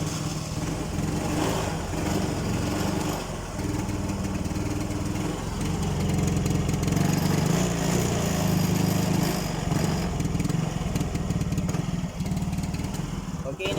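A Yamaha Mio J scooter engine runs unevenly and sputters when revved, a continuous close, loud motor drone with rough fluctuations throughout.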